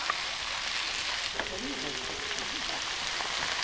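Steady, dense sizzling and crackling of potatoes frying on a hot griddle outdoors fills the clip, with a faint voice murmuring briefly beneath it.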